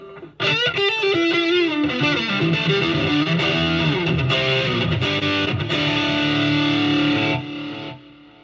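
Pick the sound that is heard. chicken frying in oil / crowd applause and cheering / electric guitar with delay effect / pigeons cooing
electric guitar with delay effect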